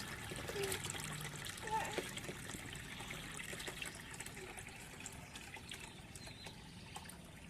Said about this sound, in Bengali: জল ভরছে